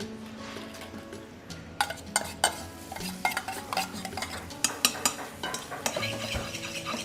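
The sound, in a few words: onions sizzling and being stirred in melted butter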